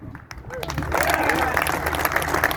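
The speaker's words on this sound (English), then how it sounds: "So I just want to give Craig a round of applause" A crowd at a veterans' charity motorcycle giveaway event breaks into steady applause that swells and holds, with some voices talking in the background.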